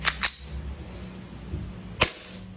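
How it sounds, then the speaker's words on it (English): A CZ Shadow 2 airsoft pistol fires BBs in quick sharp cracks, a fast pair at the start and another pair near the end, loud and close with no voices. "You can shoot fast. This is Shadow 2 competition level pistol."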